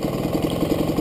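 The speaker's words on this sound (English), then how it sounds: "we'll raise the RPM a tiny bit" A GasGas EC300 dirt bike fitted with an autoclutch idles steadily, its two-stroke engine putting out an even, loud, close burbling pulse with no voices.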